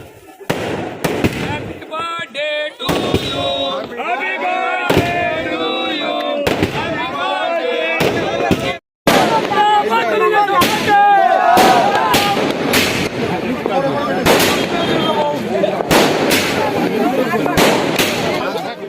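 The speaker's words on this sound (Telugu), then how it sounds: "భారీ ఎత్తున బాణసంచా కాల్చారు." Large quantities of fireworks burst at a political party's birthday celebration: rapid, loud cracks and crackling volleys repeat almost continuously, with voices mixed in beneath them.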